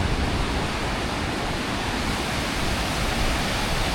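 The Bow River at Banff in the Canadian Rockies flowing past, a steady, close, full hiss of moving water with no breaks and no voices.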